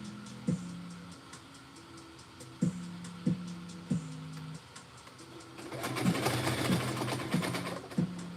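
A domestic sewing machine runs in short repeated bursts, each with a steady motor hum and a click as it starts, then a longer, louder and busier run near the end. No one speaks.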